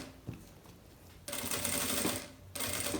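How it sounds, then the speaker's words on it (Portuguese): A sewing machine stitches fabric for a cosmetic bag with a mirror, running in two steady buzzing bursts after a quieter start, close and clear with no talk. "E agora eu vou costurar esse lado aqui."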